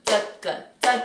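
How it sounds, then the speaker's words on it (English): Three slow, evenly spaced hand claps ringing out alone in a quiet room during a piano lesson, each crisp and close with a short decay. "let's actually clap this and then keep going"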